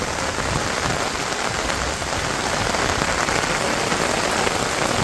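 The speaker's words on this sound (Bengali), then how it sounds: "ভাবলাম যে আপনাদের একটু বৃষ্টি দেখাই কীরকম" Heavy rain pours down steadily over a village, a dense, even hiss of drops striking surfaces nearby with no pauses and no voices.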